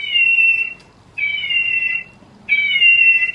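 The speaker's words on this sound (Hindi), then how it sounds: "ये बिल्ली ना बोलती है" A talking toy cat bought at the Gold Souk in Dubai gives three loud, sustained electronic meows in a steady repeating pattern with short gaps between them, and no talking.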